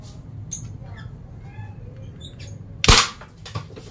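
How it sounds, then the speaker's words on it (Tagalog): A PVC toy gun fired without alcohol gives a single sharp pop, close and fairly loud, over a steady low background hum with faint chirps. "mahina po yung kanyang yung putok na kasi nga gawa nga ng walang alcohol na"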